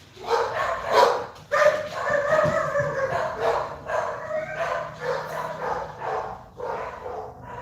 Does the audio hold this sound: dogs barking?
yes